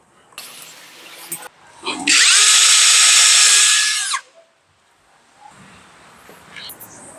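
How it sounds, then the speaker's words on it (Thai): A power drill bores a small hole in a wooden board while a fan switch is converted to remote control, whining steadily and loudly for about two seconds between quieter handling noises. "เดี๋ยวผมจะเจาะนิดนึง"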